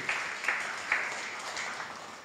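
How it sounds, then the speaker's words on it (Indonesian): Applause during a church worship service, a soft, distant patter of clapping from the congregation with a few slightly louder bursts, fairly faint and with no talking over it. "berikan tepuk tangan yang meriah buat Tuhan Yesus"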